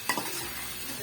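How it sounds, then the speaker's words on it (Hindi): Fish curry cooking in an open pan, with a soft continuous sizzle and a couple of brief stirring scrapes near the start, steady and close with no talk. "अब इसको हम बनाई और खुले बर्तन में पकाइएगा"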